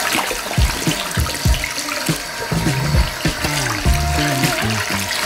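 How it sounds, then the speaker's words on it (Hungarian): Tap water runs onto hair during a hair-wetting treatment, a steady broad wash of flowing water with soft splashing and a few low thumps, close and continuous throughout. "Kinyitjuk a vizet."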